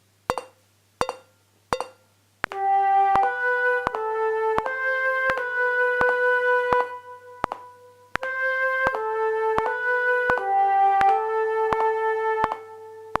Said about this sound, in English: exercise B, is intended to show your flexible embouchure and your neat fingerwork, so it requires lots of slurs between the pairs of notes.